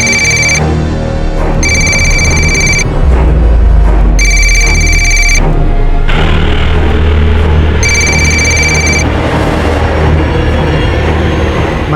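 A telephone rings loudly in repeated bursts with short gaps between them, over a constant low rumble that sounds like a moving train.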